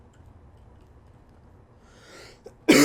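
A single sharp cough bursts out loud and close at the end after near silence, with a faint throaty sound just before it, during a Space Engineers gaming session.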